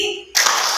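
A sudden burst of group clapping in the tepuk gajah semut clapping game during an academic supervision coaching session, starting sharply after a brief tonal lead-in and continuing as a bright, close patter.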